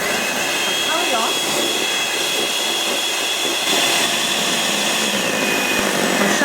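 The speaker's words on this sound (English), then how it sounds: "turn off the whisk" An electric whisk beats eggs for a low-protein omelette, giving a steady, loud, continuous whirring buzz that runs the whole time with no break.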